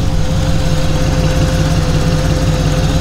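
A revived Ford Model A engine runs loud and close with a steady, throbbing mechanical drone and even rhythmic pulsing, holding at a constant level without clear revving.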